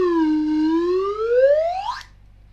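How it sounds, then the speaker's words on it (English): A piston flute sounds one continuous whistle-like tone that dips, then climbs steadily in pitch as the piston slides, before cutting off abruptly; clean, close and with no voices. "I can change the length like a trombone by pulling this piston in and out"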